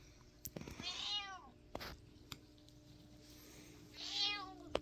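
A black cat meows twice indoors, a clear drawn-out meow early and another near the end, with soft scuffs and quiet room noise between.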